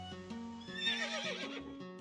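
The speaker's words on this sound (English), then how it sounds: "Horse looks happy and healthy." A horse neighs once, a clear whinny rising and wavering for about a second, heard close over faint background noise with no talk.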